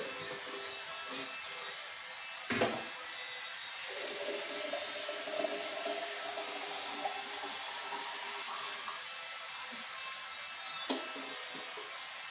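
Boiled water is poured into a pan of frying chicken pieces, making a steady broadband hiss and rush that lasts the whole time, with a few small clunks.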